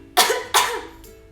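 A storyteller's voice imitates a rooster coughing with two sharp, close coughs in quick succession, followed by a fainter third catch.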